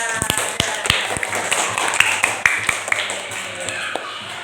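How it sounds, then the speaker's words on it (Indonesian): A small group of students claps briefly in a classroom, scattered and uneven, with sharp hand slaps fading out. "Tepuk tangan untuk Mbak Kansa."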